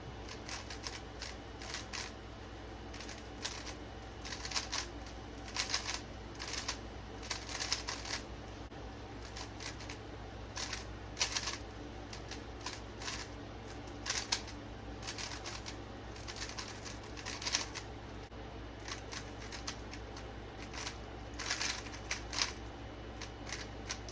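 A Cubicle SE Swift Block speedcube is turned rapidly during solves, giving dense, continuous plastic clicking and clacking in uneven bursts over a faint steady hum, close and alone.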